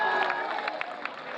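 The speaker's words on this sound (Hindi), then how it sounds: "कुर्सी पर हैं तो क्या ताली बजा सकते हैं?" Audience applause at a live poetry recital, a brief burst of clapping and crowd noise, fairly close and steady, with some voices mixed in.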